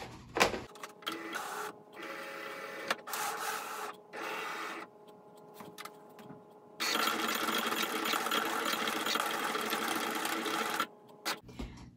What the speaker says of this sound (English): We're going to put it in the tray, feed it through, and let the Cricut do its magic.